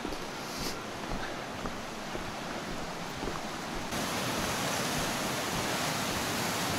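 A powerful river swollen after rain in Russia's Altai region, on the way to Lake Teletskoye, rushes continuously with a dense, steady roar of water, loud and unbroken throughout, no voices.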